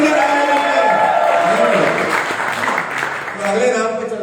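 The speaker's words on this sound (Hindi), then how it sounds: "बहुत बहुत बधाई, जोरदार तालियां होनी चाहिए शशि सिंह।" An audience at a Bangkok anniversary celebration applauds loudly and continuously throughout, with a voice or music carrying over the dense clapping.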